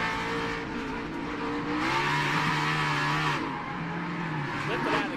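NASCAR race car engine on the Indy road course, a loud continuous roar with shifting pitch as the driver lifts off the throttle and eases back on, heard close and without a break.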